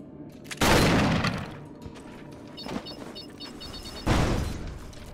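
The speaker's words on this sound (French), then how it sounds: "Je suis en train d'utiliser toutes mes balles." Gunfire in the video game Erra Exordium comes in two loud, dense bursts separated by quieter moments with faint mechanical clicks in between.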